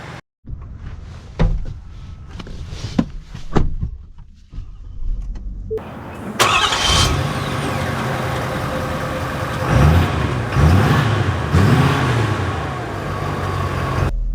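2024 Ford Super Duty Tremor King Ranch pickup: a few clicks and interior sounds, then the engine fires loudly and settles into a steady idle, then a low drone as the truck drives with a couple of swells in revs.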